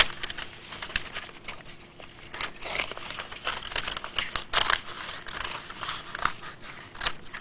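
Scissors cut through a paper loop in a science demonstration, giving continuous crisp snipping and crinkling of paper that stays close and moderately loud, with no talking.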